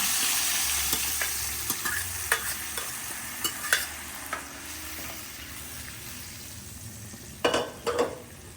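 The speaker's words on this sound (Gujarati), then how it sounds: "હવે આપણે દાળ જે મેચ કરી હતી તે નાખવાનું" Steady sizzling of dal being fried in a hot pan for Gujarati dal pakwan, with spoon scrapes and stirring clinks rising above it, the strongest knocks near the end, no talk.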